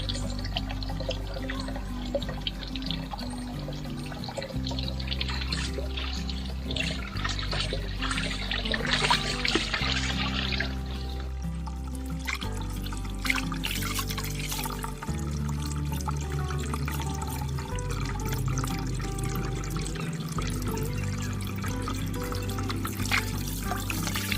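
Tilapia being rinsed under running water while salted dried fish is prepared: a steady pouring, trickling stream runs continuously for about 24 seconds over a low, droning tonal background, with no talking.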